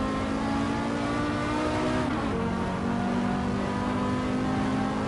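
Race car engine in the Assetto Corsa racing game holding a steady high drone near the rev limiter, its pitch dipping briefly midway before settling again, loud and continuous with no talk.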